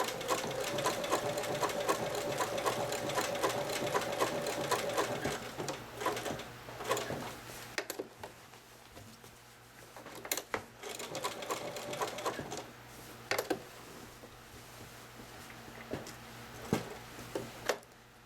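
A sewing machine stitches a quilt with thick 30 weight thread, a steady fast mechanical whir with brief pauses and restarts, close and moderately loud.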